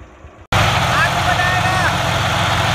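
A John Deere tractor engine runs with a super seeder in a farm field. Its loud, steady drone cuts in abruptly and holds, with voices faintly mixed in.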